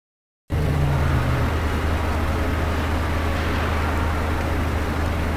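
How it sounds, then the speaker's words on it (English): A car engine in the arcade racing game Thrill Drive cuts in abruptly after a brief silence, then holds a loud, steady engine drone with a short tonal note at the start. "Please start your car."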